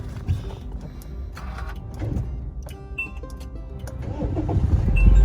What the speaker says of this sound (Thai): เราทดสอบกันสตาร์ทนะครับ